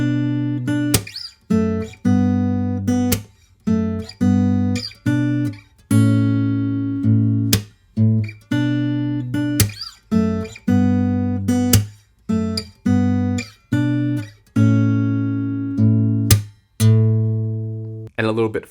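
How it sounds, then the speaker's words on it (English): A bass guitar riff mixing plucked low notes with percussive slapped hits, repeated steadily in a loop with sharp attacks, played alone and close. "we'll pluck the bass note by itself and then slap on the 4 beat"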